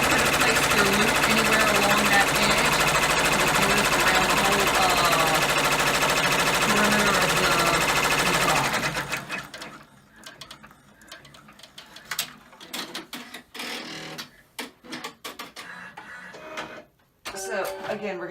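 A sewing machine stitches fabric in a fast, even mechanical whir for several seconds, then stops into quieter handling noises with someone talking.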